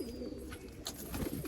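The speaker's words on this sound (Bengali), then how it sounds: "এই হচ্ছে পায়রা" Malwai and Giribuz pigeons in a loft, soft low cooing close by, a brief murmuring call under a faint background hum.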